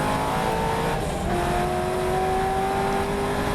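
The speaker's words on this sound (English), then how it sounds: "Turning for the left for the pit straight, and that is my first lap of the race for the Spa Summer Classic." TVR race car lapping the Spa circuit during a summer classic race, engine droning loud and steady from onboard with a rising whine as it pulls through a left turn onto the pit straight.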